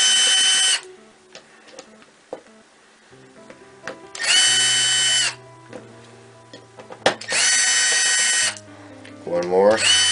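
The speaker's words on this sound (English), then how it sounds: "I have a small bit here for the actual drive. So you want to take all these screws out, like this." A small electric drill-driver bit backs screws out of a computer hard drive in three loud whirring bursts of about a second each, with someone talking quietly in the pauses between them.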